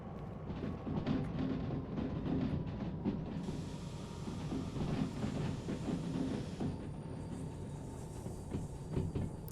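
A freight train running in a railway simulation game, a steady rolling rumble with rhythmic clatter and a high hiss entering partway through, continuous and fairly close.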